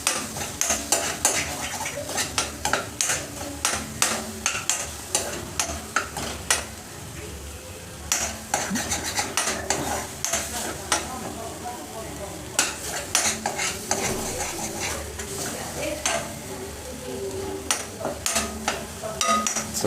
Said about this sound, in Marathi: लो फ्लेमवरती मसाला भाजा, जास्त हाय फ्लेम ठेवू नका.